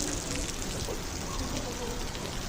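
Rain falls steadily in Saudi Arabia, a dense continuous hiss and patter close by, with a voice occasionally speaking over it.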